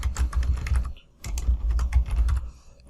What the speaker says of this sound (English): This is where we're going to type Dear Jane